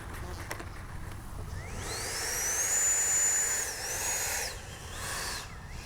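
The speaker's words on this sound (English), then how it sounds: "I gotta tell you, this is a good flying jet." A 70mm FLYFANS JAS-39 Gripen RC electric ducted-fan jet passing overhead outdoors, its thin high-pitched whine rising and sweeping past, holding steady, then fading and dipping over a breezy, hissy background.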